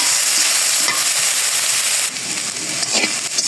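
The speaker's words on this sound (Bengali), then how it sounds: "নেড়ে চেড়ে নেব।" Spices frying with salt and turmeric in a pan are stirred, producing a loud continuous sizzle and crackle with scraping from the stirring, with no voices over it.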